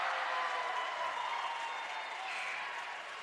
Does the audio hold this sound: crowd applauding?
yes